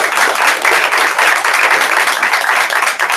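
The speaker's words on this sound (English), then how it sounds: "So, give them a round of applause." Audience members at a sales meeting give a round of applause, a loud, close, continuous wash of many hands clapping together with no talk over it.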